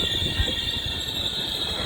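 Trenitalia train at the small Ferrara railway station in Italy, a steady loud rumble of rolling rail cars with a sustained high metallic wheel whine running throughout, close by and with no talk.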